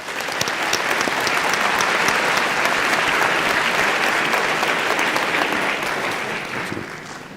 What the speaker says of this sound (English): please join me in a resounding warm of applause for our musicians